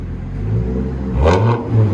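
Straight-piped 2006 Chevy Colorado 3.5L inline-five revving hard, with a deep, loud exhaust rumble that swells into a sharp rev near the end and then holds a throaty drone, with no talking.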